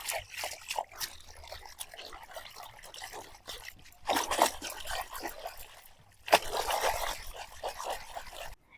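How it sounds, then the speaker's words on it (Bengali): Rui fish being rinsed in pond water, with soft trickling and sloshing throughout and two louder splashing bursts partway through, close by with no talk. "এই পুকুরের মধ্যে এবার মাছগুলোকে ভালোভাবে ধুয়ে নেব।"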